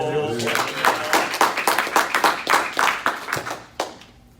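Clapping from a church congregation, a steady run of sharp, fairly close handclaps in a loose rhythm that thins out and stops near the end, with voices underneath.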